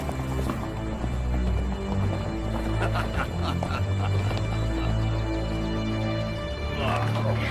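Horse hooves clip-clopping on the ground in a western action film, a steady rhythm of fairly near hoofbeats under music and low voices, with a brief snort toward the end.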